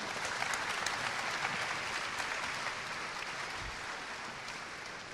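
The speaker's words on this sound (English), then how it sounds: "let's give our VC and Dealmaker panelists a round of applause" Sustained audience applause for a venture capital and dealmaker panel at a Hong Kong conference, a dense steady wash of many clapping hands that fades slightly toward the end.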